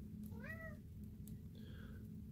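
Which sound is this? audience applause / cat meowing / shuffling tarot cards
cat meowing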